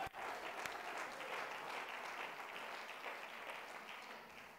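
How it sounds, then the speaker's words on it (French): A church congregation bursts into applause and acclamation, a dense, sustained wash of clapping that fills the room at a steady level before easing slightly toward the end. "Nous donnons gloire au Seigneur par des puissantes acclamations."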